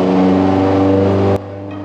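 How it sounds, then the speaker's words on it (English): A 2018 Subaru WRX STI engine revs loud and close on a dyno, holding a sustained steady drone that cuts off abruptly into a lower idle near the end. "I'm gonna let this dyno run play out"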